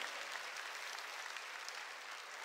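A church congregation claps during a sermon, a continuous wash of many hands that sounds faint and distant and holds steady from start to finish.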